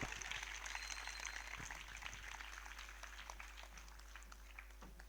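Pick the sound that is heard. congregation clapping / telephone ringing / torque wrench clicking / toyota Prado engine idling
congregation clapping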